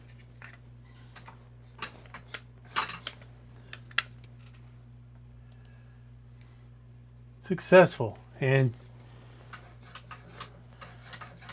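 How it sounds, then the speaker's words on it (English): A few faint mechanical clicks and ticks from an electronic drive-by-wire throttle body on a Holley Terminator X system, over a steady low hum, then a short buzzy burst as a voice speaks briefly. "I bet you can hear that throttle body."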